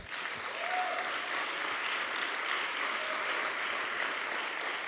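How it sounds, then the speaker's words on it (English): A graduation crowd at a job training program ceremony applauds in a sustained, even wash of clapping, loud and continuous throughout with no speech over it. "Give yourselves a round of applause."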